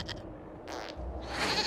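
A goat in a video game gives a short, close bleat, a couple of quick wavering cries within under two seconds.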